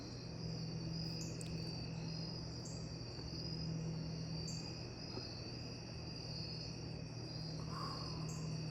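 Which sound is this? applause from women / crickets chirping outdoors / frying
crickets chirping outdoors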